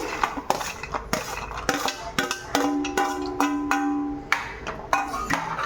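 A spoon stirs cashew garlic curry in a pan, with repeated metallic clinks and scrapes against the pan in an uneven rhythm, close and clear, with a brief ringing tone in the middle.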